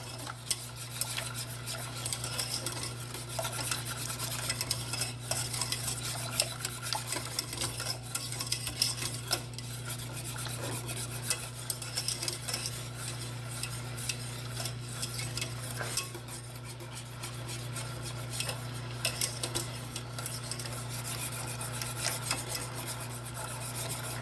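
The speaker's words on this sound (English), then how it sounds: "You gotta keep stirring that thing now because you do not want it to burn" A spoon scrapes and stirs steadily against a pot of German chocolate cake filling made with egg yolks, a continuous rasping, rubbing sound close by, over a low steady hum from the stove area and with no talking.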